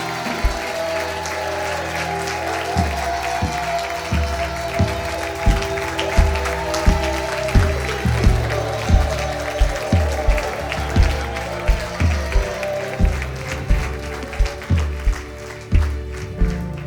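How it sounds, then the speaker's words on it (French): A church congregation applauds a group of adventurers, broad sustained clapping layered over music with a regular thumping beat underneath. "On peut les applaudir bien fort."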